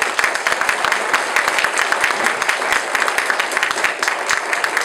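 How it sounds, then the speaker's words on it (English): An audience at a knowledge conference welcome session gives sustained applause for its original board members, dense clapping from many hands filling the room at an even level throughout. "Round of applause for them."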